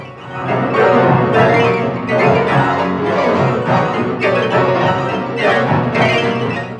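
Dense digital piano tones blur together in rapid, pulsing clusters that mimic the contours of a lead singer's voice and words, steady and fairly loud.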